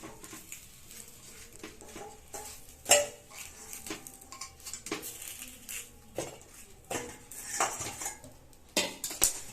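A pan and metal utensils clink and clatter as food is lifted off a home kitchen stove, with irregular close-up knocks and scrapes and a few sharper clanks scattered throughout.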